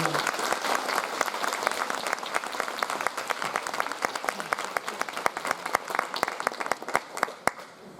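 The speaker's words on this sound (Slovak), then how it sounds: "potlesk bude patriť len na jemu" Audience applause at a Teachers' Day 2024 ceremony in Krásno nad Kysucou, Slovakia: dense, steady clapping from a full hall, loud and sustained throughout, with a few sharper individual claps standing out near the end.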